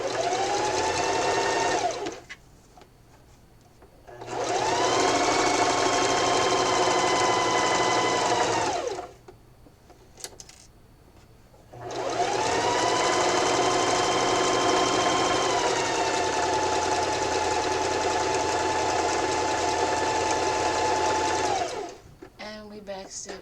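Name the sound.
sewing machine stitching around a pillow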